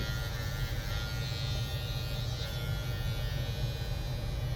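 Electric hair clippers buzz steadily and close by while cutting a child's thin hair, a continuous low hum with no breaks and no talking.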